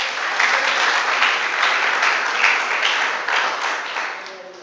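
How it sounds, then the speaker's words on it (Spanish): Church congregation applauding during a Spanish-language service, a dense, sustained wash of many hands clapping together, loud and close, tapering slightly at the end. "Démosle un fuerte aplauso al Señor en esta mañana."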